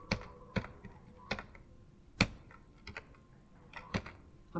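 Mouse or key clicks while playing Geometry Dash come as sharp, isolated taps at an irregular rhythm, close and fairly quiet over a faint background hum.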